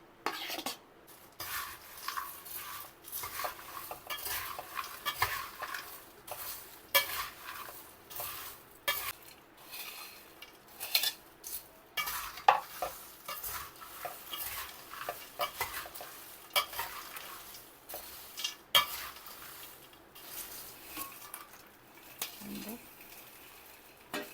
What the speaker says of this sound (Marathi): परत व्यवस्थित एकत्र करून मिक्स करून घेणार आहे मी